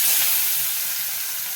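Onion and tomato fry in hot oil with a bright, continuous close sizzle and hiss, loudest at the start and easing slightly as it settles.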